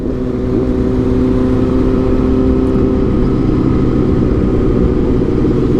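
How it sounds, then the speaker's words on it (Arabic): A motorcycle or car engine rumbles and revs steadily for several seconds, loud and close, with a continuous low drone and no speech over it. "موتور زوين"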